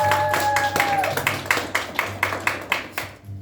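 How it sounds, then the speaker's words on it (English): Guests at a wedding ceremony applaud the couple in a burst of clapping that settles into a slower, rhythmic beat before fading out near the end, moderately close. "let's give them a big round of applause"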